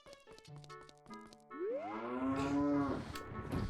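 A cow in a crate inside Zelda: Ocarina of Time moos, preceded by a short bouncy musical jingle, then one long, close, sliding moo that swells and fades.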